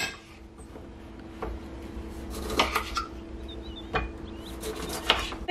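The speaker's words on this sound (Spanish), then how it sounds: "Vamos a empezar a cortar todos los limones para empezarlos a exprimir." A knife slices limes on a cutting board for aguachile, giving a few scattered knocks and scraping cuts against a quiet kitchen background.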